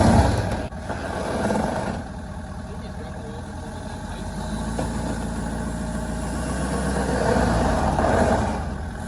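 A very heavy truck idles and rumbles steadily while backing up with an 82-inch-wide trailer, its low engine drone close and continuous with slight swells in loudness.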